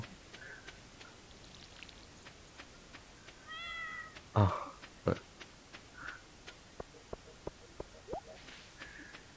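A cat meows a few short times at mid distance in Stardew Valley, set against soft ticking and rain-like patter with scattered clicks.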